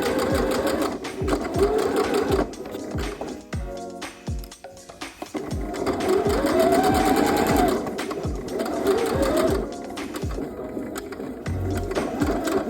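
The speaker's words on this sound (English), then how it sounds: "We're gonna back stitch. And then we're gonna stitch all the way down that dart leg." A sewing machine runs in steady bursts while stitching a dart in denim for a dress, back-stitching at the start and then sewing down the dart leg; the motor whirs close and loud with brief pauses and handling clicks between runs.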